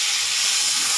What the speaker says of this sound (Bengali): আদাটা ভাজা হয়েছে, দিয়ে যাচ্ছি টমেটো আর কাঁচা লঙ্কা